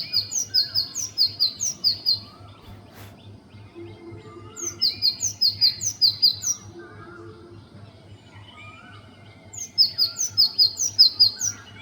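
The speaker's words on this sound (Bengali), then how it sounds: "ছোট্ট টুনটুনি পাখির মিষ্টি কিচিরমিচির" A common tailorbird perched high in a tree gives three bursts of rapid, sharp, repeated chirps, each lasting a few seconds, loud and close, with faint distant bird calls and a low background hum between them.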